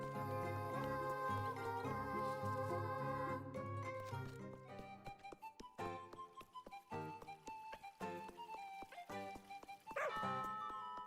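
A dog in the horror video game Little Goody Two Shoes barks and yips a few times, partly buried under dense, continuous game music.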